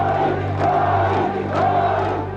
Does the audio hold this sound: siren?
no